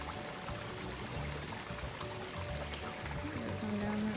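Creek water flowing along the Appalachian Trail, a steady, moderately quiet rush and trickle of running water that continues throughout with no talk.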